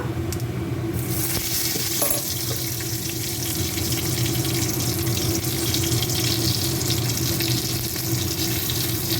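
Cinnamon, white cumin and bay leaf fry in a spoonful of oil in a pan as the start of a potato and pointed gourd curry. A steady, close, crackling sizzle runs throughout without pause.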